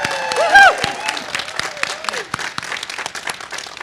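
An audience at a university strategic-plan celebration claps and cheers for Brittany, a dense burst of applause with whoops rising near the start and then tapering into scattered clapping.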